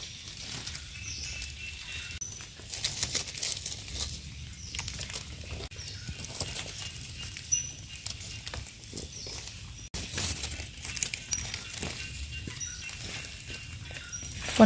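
Rain falls steadily in the countryside while mushrooms are being foraged, with a dense patter of drops and scattered louder taps throughout, close by and with no talking.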